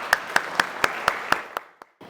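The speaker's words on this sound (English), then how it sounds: "We give her a round of applause." A small audience claps in a steady, even rhythm to welcome special guest Anna Davis, about seven sharp claps that thin out and stop near the end.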